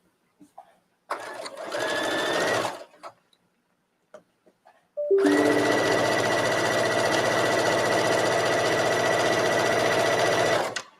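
A sewing machine stitches a trench coat seam close up in two bursts of fast, even whirring, a short run and then a longer steady one, separated by small handling clicks.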